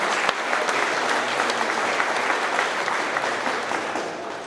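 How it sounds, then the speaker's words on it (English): Applause from an audience at a company employee celebration for a trucking firm, steady clapping filling the room for several seconds with a few voices underneath. "Give these guys a round of applause."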